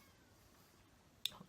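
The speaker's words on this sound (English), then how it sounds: "see if you can hear the cat outside the door." A cat meows outside a door, one short faint call near the end after a quiet stretch of room hiss, heard from indoors.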